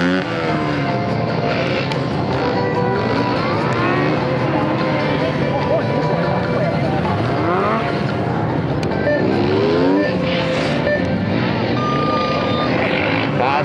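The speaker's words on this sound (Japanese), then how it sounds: "すごいスタートしてきましたのがゼッケン12番の笹尾選手がスタートです。" A Honda CBR600RR motorcycle launching into a moto gymkhana run, its engine revving and shifting pitch up close and loud, with a race announcer speaking over it and crowd noise around.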